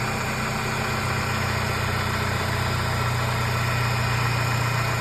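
Steady, smooth idle of a 2005 Chevrolet Colorado engine after a timing chain repair, a constant close hum with no rattle or variation throughout.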